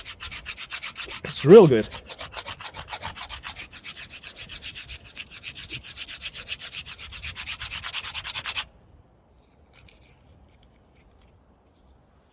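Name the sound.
Bark River Fox River EXT-1 knife carving wood shavings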